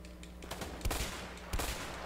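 Two loud gunshots about half a second apart in the video game A Way Out, close and punchy over a low background rumble.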